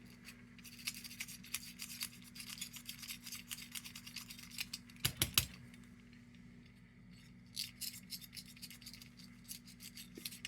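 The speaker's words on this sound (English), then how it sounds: "So these real pipe cleaners have like little specks of wire scrubby in them. You can hear the noise that they make." A pipe cleaner flecked with bits of wire scrubs inside an 1880s S.G.& L No. 0 tubular lantern, making close, scratchy rasping strokes in uneven bursts over a faint steady hum.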